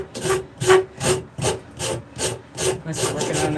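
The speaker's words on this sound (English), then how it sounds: "get back to rasping again" A wood rasp files a shillelagh into shape with about nine even, rhythmic rough scraping strokes, close and loud, with no talking.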